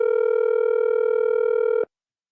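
A steady electronic phone tone with strong harmonics rings continuously for nearly two seconds, then cuts off abruptly into silence.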